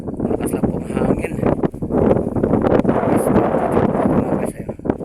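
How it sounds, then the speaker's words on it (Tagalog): Strong wind buffets the microphone outdoors near a bridge construction site, a loud, rough rumbling roar that gusts and surges throughout, with a voice faintly audible beneath it. "Malakas lang pong hangin."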